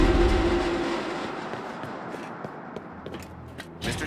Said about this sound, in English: Like there's a train coming at you.